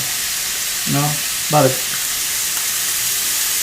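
Cheesesteak filling cooking down in oil in a pan gives a steady, close sizzle and hiss throughout, with two brief bursts of a voice or stir noise partway through.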